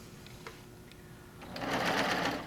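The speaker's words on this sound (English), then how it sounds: "All right, so you're going to start to stitch." A serger sewing machine starts stitching fabric, quiet at first and then a loud, steady whirring run that builds over the last second, with no one talking.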